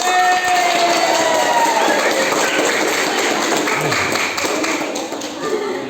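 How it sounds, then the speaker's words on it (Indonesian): An audience at a school student council election event breaks into sustained applause, a dense and loud clatter of many hands that thins slightly toward the end. "Beri tepuk tangan buat teman-teman."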